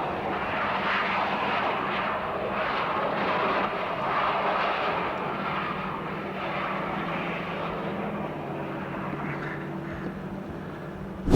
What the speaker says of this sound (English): The aircraft had to circle in the air for more than half an hour to burn off fuel and reduce its weight